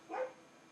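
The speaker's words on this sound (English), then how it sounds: "why is he still barking? He's just lonely." A lonely dog barks once at an open door, a short single bark heard at moderate distance in a quiet room.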